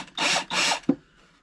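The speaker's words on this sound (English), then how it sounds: "I'll just hand drill it, see how it goes." A hand drill works on a metal part of a Myford ML7 lathe, giving two close, loud rasping strokes followed by a sharp knock, then quiet.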